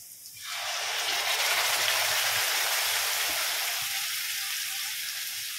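Water pours into a hot pan of Goan pomfret fish curry made with stone-ground masala, giving a loud, steady hiss and sizzle that starts sharply and continues evenly with no talking.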